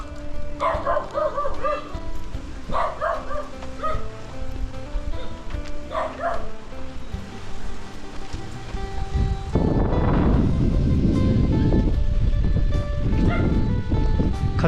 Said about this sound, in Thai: สุนัขก็เห่าเป็นเห่าเลย